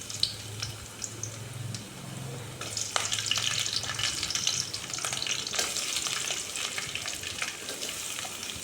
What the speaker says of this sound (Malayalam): ഇത് ജസ്റ്റ് ഒന്ന് ഷാലോ ഫ്രൈ ആവുന്ന സമയത്ത് നമുക്ക് കട്ട് ചെയ്ത് വെച്ച സവാള അതിലേക്ക് ഇട്ട് കൊടുക്കാം